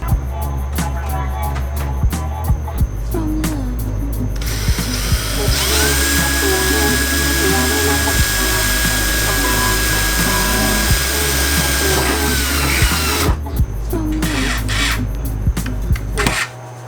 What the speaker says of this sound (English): we're gonna get a 5x32 drill bit and start drilling into it